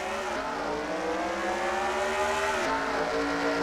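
Race cars on the Atlanta oval surge back to green-flag racing after the pace car pulls off, a loud, steady multi-engine roar with layered rising engine pitches building together and no one talking.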